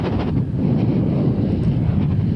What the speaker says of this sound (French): on a un petit vent de face